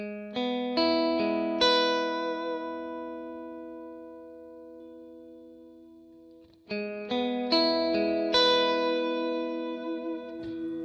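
Clean electric guitar notes and chords ring out through a plate reverb, each phrase decaying into a long smooth tail, with a pause before a second phrase picks up.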